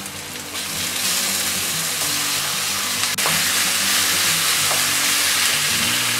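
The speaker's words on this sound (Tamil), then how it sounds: "தக்காளி வெங்காயம் ரெண்டுமே நல்லா வதங்கணும். நல்லா ஃப்ரை பண்ணிக்கோங்க." Tomatoes and onions frying in a pan: a loud, steady, close sizzle with occasional clinks and stirring scrapes, no voices.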